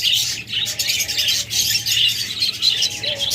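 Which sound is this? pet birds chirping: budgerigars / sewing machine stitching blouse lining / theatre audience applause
pet birds chirping: budgerigars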